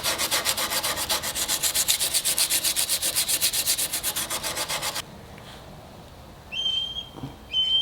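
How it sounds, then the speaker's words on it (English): Surfboard resin is sanded by hand with sandpaper in fast, rhythmic rasping strokes for about five seconds, then stops, leaving quiet background and a couple of brief high chirps. "I just need to sand it and get that finished"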